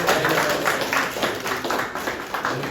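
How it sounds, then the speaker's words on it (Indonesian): An audience of adults claps at an official visit held in a Buddhist temple in Siborongborong, making steady, dense applause that swells and eases in soft waves for a few seconds. "Boleh sekali lagi tepuk tangan Bapak Ibu."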